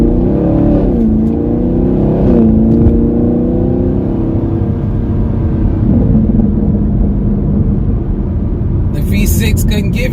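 A 2019 Camaro SS with over 450 horsepower pulls away around town, its engine note rumbling and rising steadily under continuous talk from the driver.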